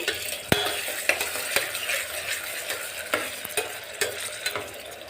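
Tomatoes and dried chillies are stirred in a pressure cooker for khichdi, giving repeated metallic scrapes and light clinks of a spoon over a soft sizzle, close and moderately loud, with no talking.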